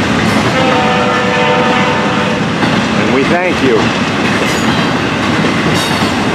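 Intermodal freight train of double-stacked containers and piggyback trailers rumbles past close by with steady loud wheel noise and a brief horn blast midway; someone speaks briefly over it.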